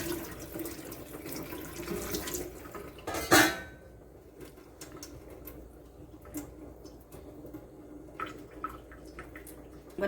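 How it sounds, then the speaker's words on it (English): Hot water poured over ackee sitting in a strainer in a kitchen sink, a loud splashing gush near the start that gives way to quieter trickling, drips and faint clinks of dishes. "so I'm gonna pour the hot water over it."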